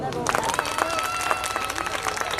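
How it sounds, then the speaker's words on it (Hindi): Audience clapping at a Hindu jagran devotional night, scattered claps rising through sustained musical tones and voices that fill the background. "जिनको हमारा जाना अच्छा लगा वो ताली बजा दो"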